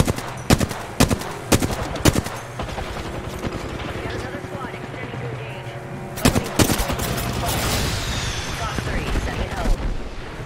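Gunfire in the video game Apex Legends: rapid bursts of sharp shots in clusters, then a denser stretch of continuous automatic fire, loud and close over a busy game soundscape.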